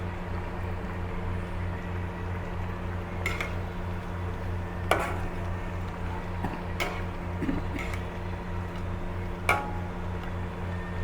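Crab curry in a pot being stirred slowly, with a few sharp spoon-on-pot clinks over a steady low simmer and hum, moderately close.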